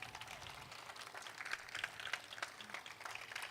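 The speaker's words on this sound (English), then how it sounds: "Can we give Mayor Brandon Johnson another round of applause?" A gala audience at an organization's fifteenth anniversary celebration applauds Mayor Brandon Johnson, a faint, steady patter of many hands clapping across a large room, fairly distant and continuous throughout.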